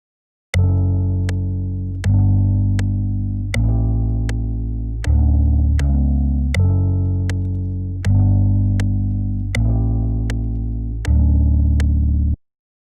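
A mellow lo-fi loop of sustained warm chords, each struck with a soft click and slowly fading, changing every second and a half or so.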